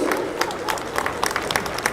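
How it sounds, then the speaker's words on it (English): Audience at the T-Hub Foundation Day event applauding the launch of T-Bridge, a short burst of many hands clapping with crowd noise, fairly loud and close, with a voice mixed in. "Give a big round of applause, guys."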